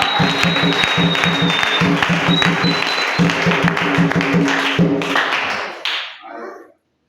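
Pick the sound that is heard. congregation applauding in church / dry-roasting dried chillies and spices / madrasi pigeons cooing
congregation applauding in church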